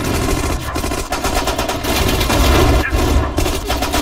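Dense, continuous machine-gun and rifle fire from soldiers in the WWII strategy game Sudden Strike 4, loud and rattling throughout with overlapping bursts and heavier thuds, no speech.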